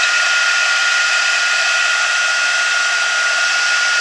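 A hair dryer on high blowing hot air to dry paint on paper, a loud steady continuous whoosh with no variation from start to end.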